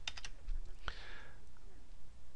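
Keys clicking on a computer keyboard as a date is typed into an Excel spreadsheet: a quick cluster of close, light keystrokes at the start, then one more tap, over faint room hiss.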